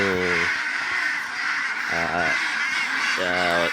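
Ducks on a farm with about 700 females and 80 males give three loud, nasal quacking bursts close by, over a constant background of flock chatter.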